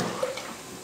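Water is poured into a pressure cooker of rice for cooking, a short, close, splashing gush that fades quickly.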